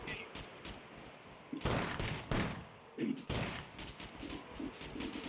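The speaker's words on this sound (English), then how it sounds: "Man, people are shooting right over me." Gunfire in the video game Scum arrives as bursts of sharp cracks, some single and some in quick runs, loud and fairly close, separated by short stretches of quieter background.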